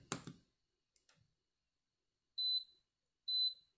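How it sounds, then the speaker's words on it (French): Two short electronic beeps about a second apart from a SwitchBot smart remote during pairing, clear and close, following a brief rustle and a soft click in an otherwise quiet room. "Voilà, ça bip et ça clignote."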